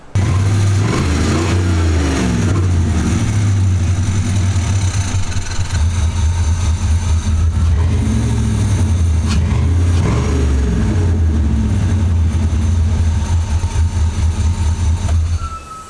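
A Jeep fitted with an LS engine and a custom exhaust runs close by, a loud, steady low rumble that swells and eases with mild revving throughout, with no talking.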